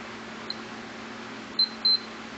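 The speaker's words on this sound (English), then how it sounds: "Beeps when you connect the 2 together." Multimeter in continuity mode beeping as its probes touch together, a couple of short, clear electronic tones near the end over a steady low hum, close by on a workbench while wiring a quadcopter KK2 board.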